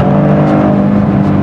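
A Maserati Grecale Trofeo SUV accelerates with a steady, loud engine and exhaust drone that stays dense and even throughout.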